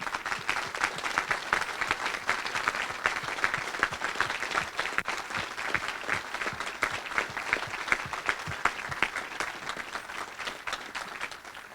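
A town hall crowd at an American Legion Hall in Rochester, New Hampshire claps for standing veterans, a continuous wash of many hands at moderate distance, steady throughout with no talk.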